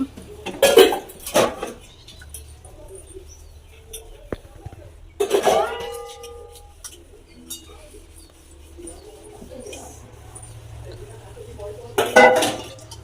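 Pots, pans and cutlery clank and scrape in bursts as they are washed and scrubbed by hand during village Sankranti preparations, with coughing and brief talk between the clatters.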